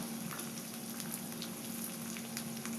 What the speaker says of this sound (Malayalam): ഇനി ഇതെല്ലാം കൂടി ഒന്ന് വഴറ്റി കൊടുക്കാം